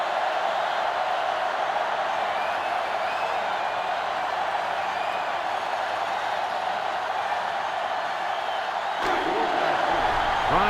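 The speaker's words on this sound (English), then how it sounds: "the defense is doing their best to fire up this crowd. This place is getting loud." A packed stadium crowd roars continuously at a college football conference championship between Ole Miss and Florida State, a dense, loud wash of cheering with no break throughout.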